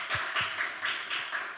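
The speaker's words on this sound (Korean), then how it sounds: "우리 주님께 감사함과 박수 드리겠습니다" A small church congregation claps together, with about half a dozen sparse, uneven bursts of hand claps, fairly quiet and close, with no talking.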